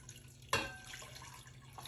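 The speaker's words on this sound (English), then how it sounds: "then I'm going to add water" Water is poured into a pot holding potatoes, onions and carrots for homemade beef vegetable soup, starting with a sudden splash and then a steady soft trickle, faint and close, with no talk.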